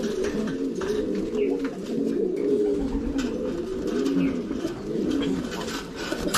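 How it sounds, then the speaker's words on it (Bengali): Several domestic pigeons coo in soft, repeating rounded phrases from a nearby loft. The calls overlap and continue throughout at moderate volume, with no talking. "এগুলো সব আমাদের পায়রা এই যে ব্রিড এটা হয়েছে"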